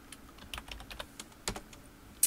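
Someone types quickly on a computer keyboard while editing a config file, producing close, crisp keystrokes in irregular bursts with a few louder clacks.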